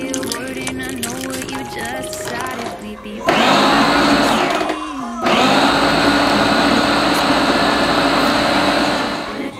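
A kitchen blender whirs loudly while pureeing apple, starting about a third of the way in, briefly pausing, then running again steadily to the end; voices and household chatter are audible before it starts.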